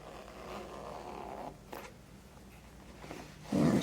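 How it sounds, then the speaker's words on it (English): A zipper on a stitching project bag is pulled open in one long rasping stroke, followed by a brief pause and then a louder rustle of fabric at the end. The sound is close and fairly quiet. "So let me do the zipper here"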